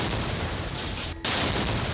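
A loud explosion goes off at a flag pole placed on the ground at the Israel-Palestine border in 2018: a dense, harsh blast of noise fills the moment, breaks off briefly, then returns at full force, with no talk.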